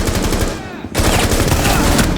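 Automatic gunfire in Rainbow Six Siege, loud rapid bursts that break off briefly and then resume in a second sustained volley.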